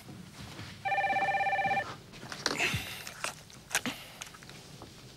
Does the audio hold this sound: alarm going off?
no